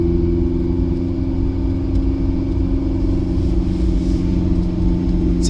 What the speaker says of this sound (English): the Ferrari 488 Spider in the snow